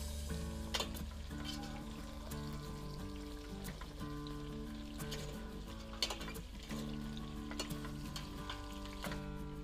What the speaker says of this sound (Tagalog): Sakotsahin po natin uli kasama yung bawang. Para maluto na konti yung bawang.